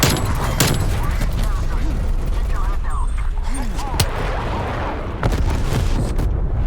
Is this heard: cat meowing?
no